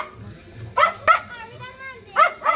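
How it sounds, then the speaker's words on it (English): Dogs at a home bark in a few sharp yips and barks spaced out over a couple of seconds, fairly close, amid some background noise. "And dog behaving bad, so I gotta care them and lock them up at the backyard."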